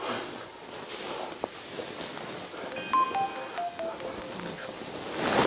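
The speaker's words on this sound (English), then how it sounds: "That's a text message." A mobile phone text message alert plays as a short run of bright electronic beeps and tones at moderate volume, heard in a quiet indoor room with no talking.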